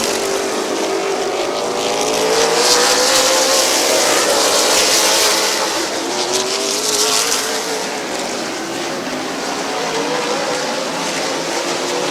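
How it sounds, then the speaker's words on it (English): Race cars lap Midvale Speedway during a July race night, a loud continuous engine roar rising and falling as the field passes, with wavering whine and no talk over it. "Brandon Short trying to take over third from Bowl. 19 laps on the board"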